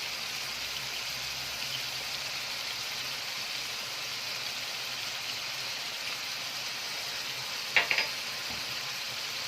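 Alexandrian sausage sautés in a pan with a continuous, even hiss of sizzling fat that stays steady throughout, with a brief clatter near the end.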